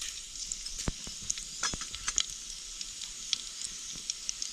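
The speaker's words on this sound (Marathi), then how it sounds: "तेल गरम झालं मोहरी टाकू जिरं टाकू थोडंसं तीळ" Mustard seeds, cumin and a little sesame frying in hot oil for a vegetable dish, a soft continuous crackling sizzle with scattered sharp pops and a few spoon scrapes, close but fairly quiet.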